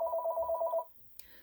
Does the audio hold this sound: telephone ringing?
yes